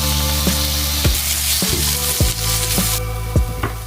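Butter, garlic, onion and paprika sizzle steadily in a pan, a continuous close frying hiss broken every half second or so by clanks of a utensil stirring against the metal.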